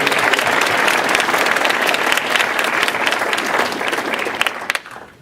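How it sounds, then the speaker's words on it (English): A banquet audience at an alumni awards dinner gives a loud, sustained round of applause, the clapping staying full and even before tapering off in the final moment. "give everybody who's been a part of this recognition a round of applause."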